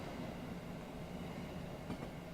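A Class 717 train pulls away in Train Simulator with a low, steady rumble of wheels and motors, faint and even over the short stretch, with no voices.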